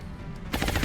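Automatic gunfire in the turn-based strategy game XCOM: Enemy Unknown, a short loud burst of shots starting abruptly after a quiet low rumble.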